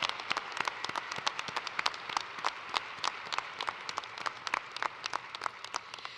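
Applause at a College of Nursing convocation ceremony, steady dense clapping from an audience filling the whole stretch at moderate level, no voices over it.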